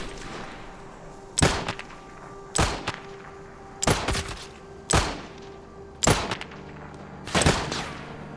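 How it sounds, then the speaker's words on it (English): Gunfire during a Zero to Hero raid: six loud, separate bursts of shots spaced about a second apart over a low background hum. "You shooting me now?"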